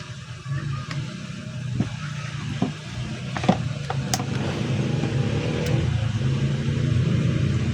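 An Armor mini industrial stand fan, old and stiff and needing oil, runs its motor in a steady, fairly loud whirring rumble with a few faint clicks over about eight seconds, with no voices.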